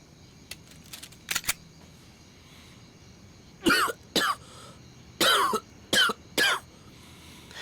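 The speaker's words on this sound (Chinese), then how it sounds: "就刚才你那2声咳嗽，很可能会要了你的命" A few sharp, close coughs after a quiet stretch, first a pair, then a quick cluster of three, with no talking.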